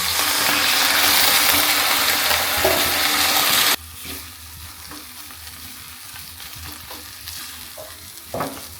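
Potatoes being sautéed in a pan sizzle loudly and steadily for a few seconds, then the hiss suddenly drops to a quieter fry with occasional close spatula scrapes and knocks, with no voices.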